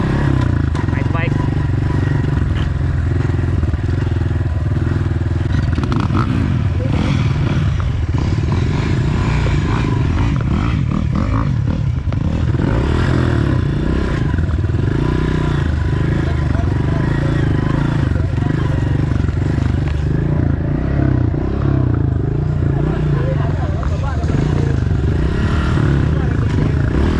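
Honda off-road motorcycles ride at an off-road fest in Davao City, their engines making a loud, continuous roar with clatter over it as people talk nearby.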